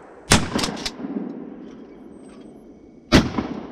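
Shotgun blasts at clay targets on an outdoor range: one sharp loud report followed by two quick echoing cracks, a quiet pause, then another loud shot, with no talking.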